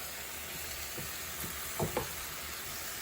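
Chopped carrot, green beans and green onion sizzle steadily in a hot pan for risoles, a quiet, even hiss with a few soft stirring knocks near the middle.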